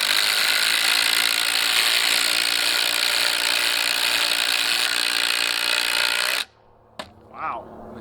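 Ridgid Octane and Makita impact drivers hammer together in a loud, continuous rattling burst for about six seconds, then stop abruptly, followed by a brief faint sound and quiet.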